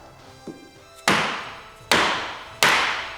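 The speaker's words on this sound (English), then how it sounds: "I need to hit this thing with a hammer to get it apart" A small tap followed by three loud, sharp hammer blows on metal, spaced about a second apart, each ringing briefly before fading.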